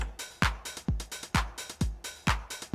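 A Roland TR-909 drum machine loops a full beat: booming four-on-the-floor kick, snapping hand claps, ticking closed hi-hats and hissing open hi-hats on the offbeats, dense and steady with no talking.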